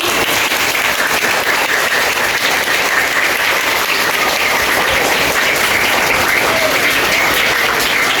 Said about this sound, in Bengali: একটা হাততালি যদি আমি ভালোভাবে শুনতে পাই